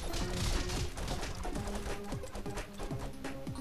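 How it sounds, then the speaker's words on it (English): Objects being smashed in the video game Castle Crashers, with repeated dense crashing and whacking hits over busy game music throughout. "I'm just walking around, smashing stuff."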